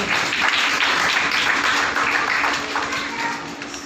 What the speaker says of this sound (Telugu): సరే చప్పట్లు కొట్టి అభినందిద్దాం.